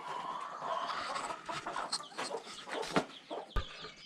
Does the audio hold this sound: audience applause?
no